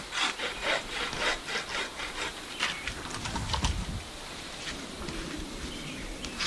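A bow saw cuts a small tree in snowy woods with fast, vigorous back-and-forth rasping strokes, close and rhythmic, no voices.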